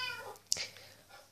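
A Minecraft cat gives a short, high meow, with a small click in the middle, heard faintly under soft game background sound.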